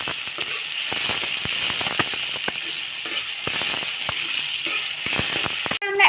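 Onions fry in a hot pan for liver singara filling, a loud, steady sizzle crackling up close with frequent sharp stirring clicks and scrapes throughout.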